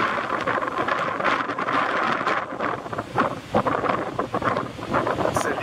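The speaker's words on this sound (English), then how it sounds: "It's a little bit windy." Steady wind buffets the microphone in broadband gusts beside a Baldwin Prairie steam locomotive, with a rushing outdoor roar that swells and dips throughout.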